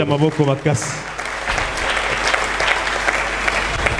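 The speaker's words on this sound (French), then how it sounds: "Acclamons très fort pour le roi." Church congregation bursts into loud, sustained applause and cheering that fills the room, following a preacher's brief spoken line at the start.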